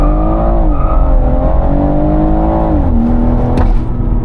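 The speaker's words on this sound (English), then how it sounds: "Oh man, that backfire was really loud." A BMW M140i, 340 hp with an eight-speed ZF gearbox, launches hard under launch control, its engine roaring loud and steady as revs climb and dip through gear changes, with a sharp exhaust backfire crack near the end.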